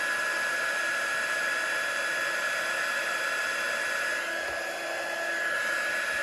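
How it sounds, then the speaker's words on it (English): A heat gun blows a steady, faint whirring hiss as it melts embossing powder on a stamped Christmas tree image, one continuous airflow with no talk. "as soon as we see that embossing powder start to melt and change, we need to move the heat gun over the image"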